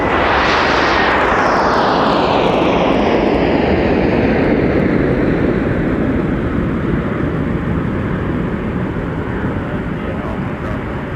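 A Delta heavy jet airliner departs snowy Minneapolis–St. Paul airport, its engines producing a loud, continuous, broadband roar that slowly recedes over the whole stretch.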